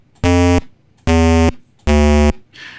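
Three loud, evenly spaced bursts of a low synthesized buzzing tone played at octave 2 in a Space Invaders sound editor, each about half a second long with short silences between.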